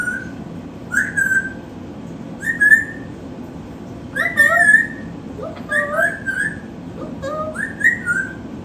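A baby bird whistles short, clear rising phrases in a series of separate bursts, close and fairly loud over a faint steady background hum.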